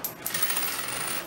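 A pile of coins drops and jingles during a car purchase paid entirely in paper money and coin, a dense metallic clatter lasting just over a second with no voices.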